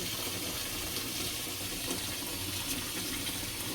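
Salt water pours steadily into a container for washing callaloo, a continuous close gushing splash with no breaks and no voices.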